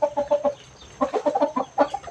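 Chickens cluck in short, close bursts while settling down to roost on an evening of light rain at a temple in Lampang, Thailand, with a brief pause between the groups of calls.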